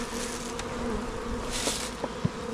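Honeybees buzzing around backyard hives as packages of bees are installed, a dense, steady hum of many insects close by, with a few soft clicks and knocks from handling hive parts.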